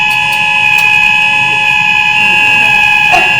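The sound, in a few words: fire alarm going off during a lecture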